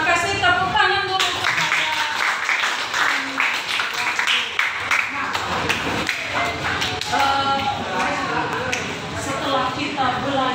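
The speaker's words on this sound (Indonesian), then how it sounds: "Tepuk tangan dulu" A class of students clapping together in a classroom: a burst of many hands that quickly thins into scattered taps and shuffling, with a teacher and children talking over it.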